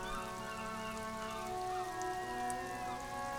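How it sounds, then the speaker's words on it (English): Rain patters on the roof of a wooden woodshed in the game Disco Elysium, a soft, even hiss of falling drops mixed with a low tonal ambient hum, steady and quiet with no voices. "Rain falls onto the roof of a woodshed."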